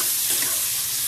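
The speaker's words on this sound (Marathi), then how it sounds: "आपण त्यात काकडी टाकून घेऊया, बारीक चिरलेली काकडी। काकडी 1-2 मिनिटं परतायची आपल्याला" Steady, even sizzle of finely chopped cucumber frying in a pan, a continuous hiss with no break and no voices.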